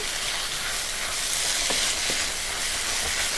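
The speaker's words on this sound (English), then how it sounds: "We're going to stir this again." Vegan Impossible meat sizzles and fries in a pan while being stirred, a continuous close hiss with a few light scraping clicks.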